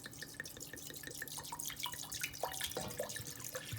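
Liquid poured from a bottle into a pot while making jam, with a continuous trickling, splashing stream and dense little drips, close and fairly quiet, no voices.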